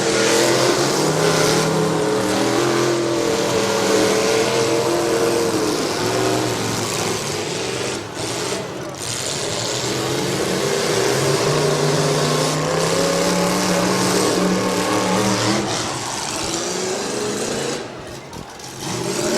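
Demolition derby trucks at the Portage County derby rev their engines across the arena, loud, rising and falling roars that overlap and surge repeatedly.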